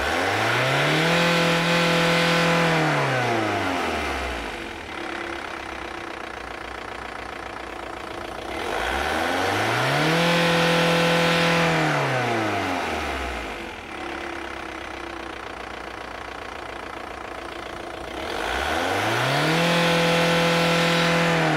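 Audi 80 1.9 TDI diesel engine during an emissions test, revving up and falling back to idle three times in a steady cycle, loud and close, with no one talking.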